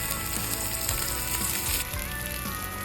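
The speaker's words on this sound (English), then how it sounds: "Cook the salmon for 6 to 8 minutes on each side." Salmon frying in a pan with garlic, giving a loud, constant close sizzle with a few soft shifts and nudges, no talking.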